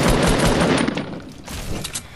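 Rapid gunshots in Fortnite Battle Royale, a dense, loud burst of automatic fire that continues without a break, slightly thinning toward the end.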